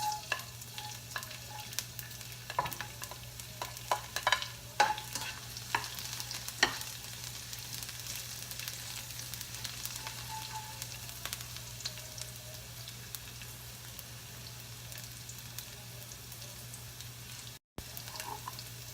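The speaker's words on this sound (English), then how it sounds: "The pan is already hot. Now we're gonna put garlic." Garlic fries in a hot pan with a constant low sizzle and scattered sharp ticks and scrapes of stirring, heard close with a faint steady hum underneath.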